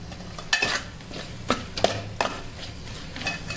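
Mutton rassa masala being stirred in a pot, with a few distinct scraping clacks of the spoon against the metal sides over a faint, steady sizzle, all fairly quiet and close.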